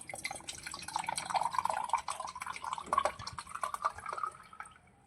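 Fresh coconut water trickles and splashes into a glass in a continuous close pour that tapers off near the end, with no voices.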